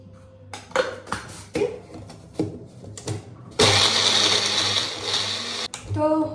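A kitchen mixer grinder blends a spice paste made with whole cumin seeds and a little water: a few sharp knocks and clatters, then a loud, close, steady whirring roar that runs through the second half and dips briefly before the end.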